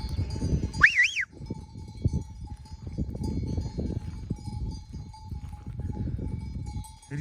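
A single sheep bleat rings out near the start over a background of low rumbling and shuffling, with a faint steady tone running throughout.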